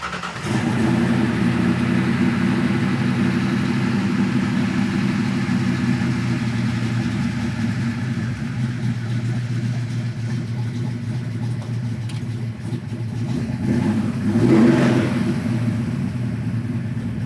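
A 1965 Ford Mustang Fastback engine running steadily close by with a deep, even idle, then a short rise as it revs near the end.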